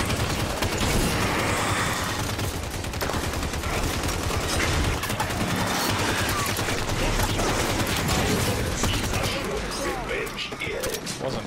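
Gunfire in Halo 5 Warzone Firefight, dense rapid bursts and sustained automatic fire mixed with game effects, loud and continuous, with a voice talking over it.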